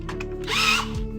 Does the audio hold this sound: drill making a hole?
yes